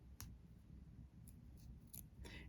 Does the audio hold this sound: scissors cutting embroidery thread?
yes